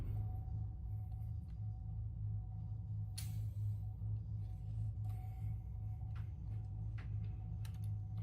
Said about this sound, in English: Bob, the sound of my car starting up has angered God.